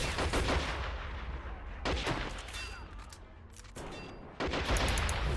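Mortar and gunfire in a war video game come as repeated sharp blasts and crackling shots, some loud bursts separated by rumbling lulls, with distant firing carrying on between them.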